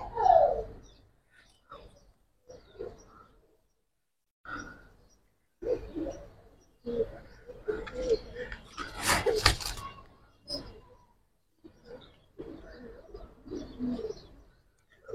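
Giribaz pigeons coo in soft, intermittent bursts close by, separated by short silences, with one louder flutter-like burst midway.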